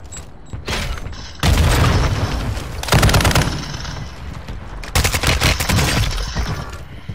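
Sniper gunfire in the video game Modern Warfare 2: loud, booming shots arrive in three heavy bursts, each followed by a rumbling tail over continuous game noise, with no talk.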